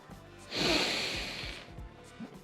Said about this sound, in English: Belly breathing.